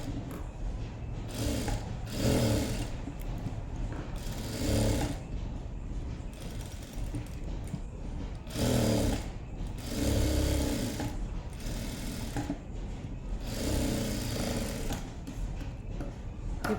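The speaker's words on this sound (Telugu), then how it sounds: "ఇలాగానే వేసుకొని స్టిచ్చింగ్ అయితే చేయాలండి" A sewing machine stitches fabric in repeated bursts of rapid mechanical whirring, each run lasting a second or so with short pauses between, close and fairly loud.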